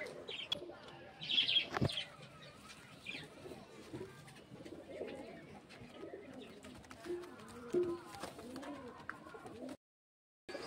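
Pigeons at a pigeon sale in Amta coo and chirp close by, with a brief burst of flapping wings early on, followed by scattered soft calls and rustling that tail off into a moment of silence.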